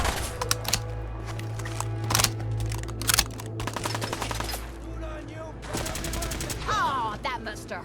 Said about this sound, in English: Shoot them! Shoot them all!